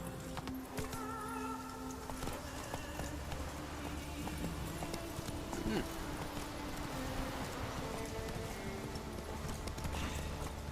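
Roach, the horse in The Witcher 3 game, gallops with steady rhythmic clip-clop hooves close by, under game music and a voice speaking.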